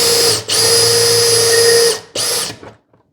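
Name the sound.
drilling a hole with a brad point bit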